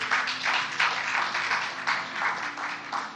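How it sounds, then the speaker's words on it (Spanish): A church congregation claps hands for God after a prophetic sermon, a steady burst of applause in pulsing waves filling the room, moderately loud and with no one speaking over it. "Dale un fuerte aplauso a Dios."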